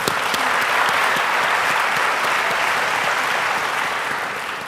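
Sustained audience applause at a Thai television talent competition, a dense wash of many hands clapping steadily for nearly five seconds, tapering slightly toward the end with no voices over it.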